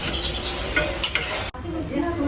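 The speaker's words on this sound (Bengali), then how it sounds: "পেঁয়াজু ভাজা হচ্ছে ওদিকে" Onion fritters (peyaju) frying in hot oil in a home kitchen, a steady close sizzle with stirring that briefly drops out midway before continuing.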